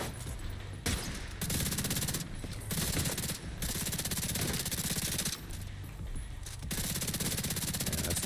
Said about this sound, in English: There's just too many enemies at once shooting at me.